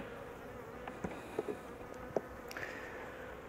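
Honey bees hum steadily on a hive frame during a beekeeper's inspection. The soft, continuous buzzing stays faint and close, with a few brief louder passes from single bees.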